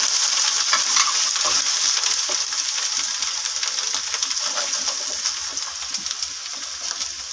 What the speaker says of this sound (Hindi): ये आलू डाल देंगे इसमें, मसाला भी भूनता रहेगा